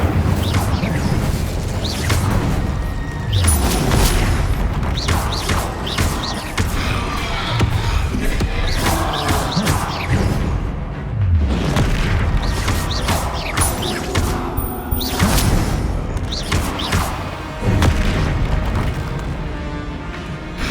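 Incendio and Confringo spells cast in combat in Hogwarts Legacy: dense, continuous layers of fiery bursts, booms and whooshing impacts with scattered crackles, loud throughout over a busy game mix.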